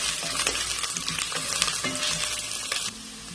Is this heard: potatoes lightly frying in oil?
yes